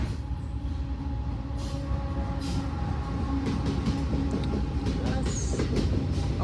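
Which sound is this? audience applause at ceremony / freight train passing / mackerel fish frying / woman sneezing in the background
freight train passing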